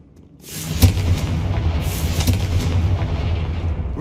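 A Confringo spell explodes in Hogwarts Legacy with a heavy booming blast, followed by a sustained rumbling roar with a couple of sharper cracks layered on top.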